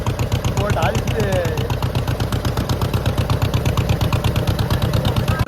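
A boat's engine chugs at a fast, steady rhythm as the boat starts moving, loud and close, with faint voices in the background.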